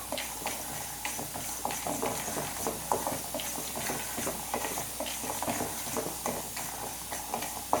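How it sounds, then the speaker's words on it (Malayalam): Sesame seeds roast in a pan over a low flame, a soft continuous hiss with dense scattered tiny pops and crackles at close range, with no talking. "എള്ളൊന്ന് പൊട്ടി വരും, അതുവരെ നമ്മൾ വറുത്തെടുത്താൽ മതി"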